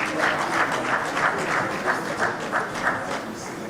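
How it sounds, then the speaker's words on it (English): A crowd at an official launch event for the African Peer Review Mechanism with the President of Zimbabwe gives a loud, sustained round of applause, dense clapping with a pulsing rhythm and no clear speech. "Let's give His Excellency and his guests a big round of applause."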